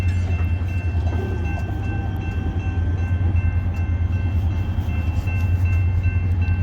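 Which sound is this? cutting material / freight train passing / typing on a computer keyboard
freight train passing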